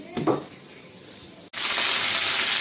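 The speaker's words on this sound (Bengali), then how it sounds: "কত সুন্দর করে ভেজে নিচ্ছি" After a quiet moment with a few faint clinks, a loud, hissing sizzle of chicken hitting hot oil suddenly erupts and continues steadily.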